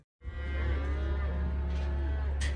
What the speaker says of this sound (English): We're missing a few cows, so let's go find them.